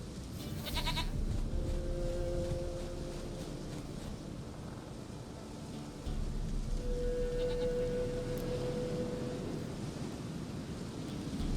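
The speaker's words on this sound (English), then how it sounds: "Goat of mine, dearest, sweetest goat." Goat in The Witcher 3 gives a couple of faint, thin bleats over a quiet outdoor ambience with a low rumble, the calls short and spaced several seconds apart.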